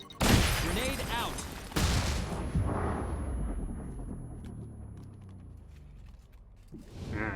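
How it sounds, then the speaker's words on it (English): A grenade detonates in the video game XCOM: Chimera Squad with a loud, close boom, then a second blast and a long rumbling tail of debris, with a voice talking over it. "Grenade out."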